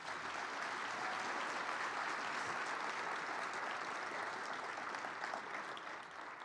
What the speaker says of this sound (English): we'll just give you a round of applause